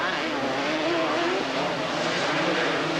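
Suzuki and Honda quads racing at the ORV Park, a steady, loud buzzing engine drone from a pack of ATVs, sustained throughout with no break.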